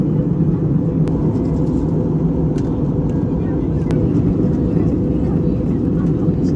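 Inside the economy cabin of an Air New Zealand domestic airliner descending into Queenstown, a loud, constant low rumble of engines and airflow fills the space, with a few faint clicks over it.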